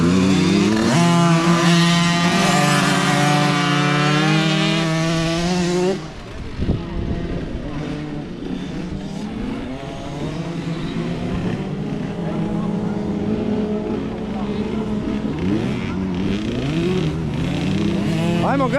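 Small motocross bikes ridden by five-to-seven-year-old children at their first training session, engines revving and whining continuously, one bike loud and close at first, then several buzzing at a distance as they ride off.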